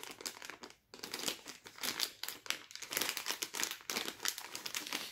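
Crinkly plastic wrapper on a cookie package crackles loudly and continuously as it is twisted and pulled open up close, with one brief pause.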